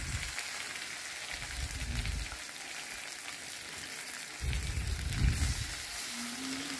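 Ginger paste and tomato paste sizzle steadily in a hot pan while cooking a vegetarian potato, pea and paneer dish, with a continuous close frying hiss that swells twice as the mixture is stirred.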